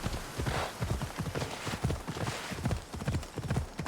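Steady, even clip-clop of a horse's hooves in Assassin's Creed Odyssey, a rapid rhythmic gait close up with no other sounds.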